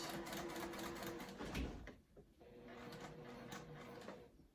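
A home sewing machine runs a 1/8 inch top stitch on a zip crossbody bag, its motor whirring steadily with a fast mechanical needle rattle, pausing briefly before resuming, quiet and close.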